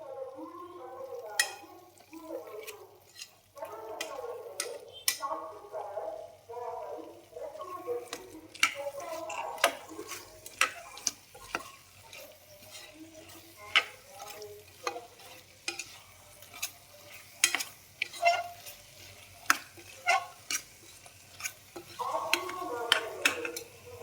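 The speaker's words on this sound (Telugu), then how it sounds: "కొద్దిసేపు అయితే వేయించుకుందాం." Chickpea masala curry stirred and fried in a pan, a steady low sizzle broken by repeated sharp scrapes and clacks of the spoon against the pan, close and fairly quiet.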